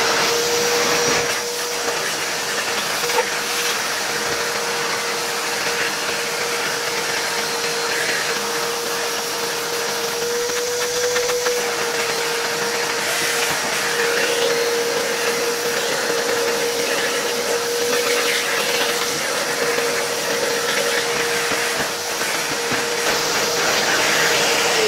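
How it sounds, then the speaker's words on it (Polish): An old Electrolux V vacuum cleaner runs continuously at a loud, steady drone with a constant whine, close by and without any talking. "Dobra, odkurzamy."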